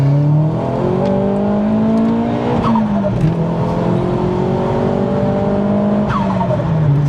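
A remapped forged-engine Vauxhall Astra VXR revs hard and high, pitch climbing and dropping through gear changes, loud and close, with tire squeal as it passes.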